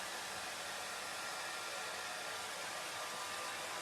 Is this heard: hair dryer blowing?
yes